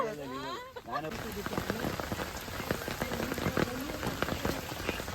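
Steady rain pours onto a flooded rice paddy in a continuous hiss of dense drops, with a brief voice early on before the downpour settles in.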